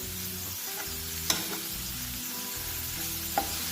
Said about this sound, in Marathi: आता याला व्यवस्थित मिक्स करून घ्या.